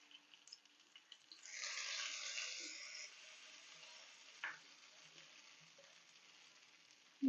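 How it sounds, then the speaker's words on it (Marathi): A hot tempering of green chilies and curry leaves in oil is poured onto chutney and gives a brief, sharp sizzle burst lasting about a second, then fades into a faint crackle with a clink near the end. "आपण लगेचच चटणीवर टाकून घ्यायची ही फोडणी"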